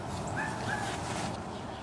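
Dachshunds yip and whimper twice in short, high-pitched bursts early on, faint and somewhat distant over a steady noisy background.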